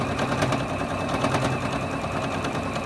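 A domestic sewing machine runs steadily during free motion quilting, a fast continuous rattle of needle strokes at close range that stays at an even level with no voices.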